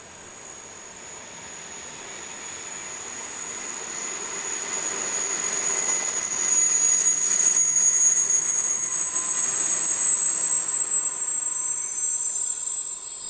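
A rebuilt Czech class 150 electric locomotive from 1978 arrives at Prague Liben station, its rolling rumble swelling then holding steady with a high whine and sustained wheel squeal, loud and near, with no voices.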